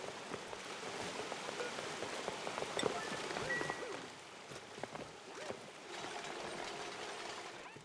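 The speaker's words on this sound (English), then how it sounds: "I get a very loud flowing water sound when I get in here." Steady rushing of flowing water in the game Oxygen Not Included, a loud, continuous broadband wash with small fluctuations that dips slightly midway before swelling again.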